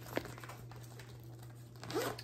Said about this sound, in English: Here's the zipper here.